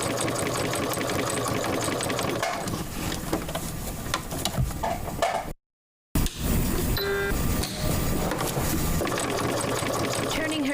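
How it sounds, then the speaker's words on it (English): A sewing machine runs steadily with a busy mechanical whir and rapid clatter, briefly stopping for a moment of silence before starting again, loud and close. "Turning her sewing machine on is therapy for Sheila Calvert."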